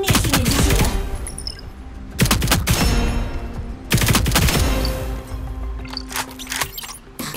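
Bursts of automatic gunfire aimed at training robots in the mobile shooter Operation Apocalypse, several rapid volleys with short pauses between them, loud and close, with no speech.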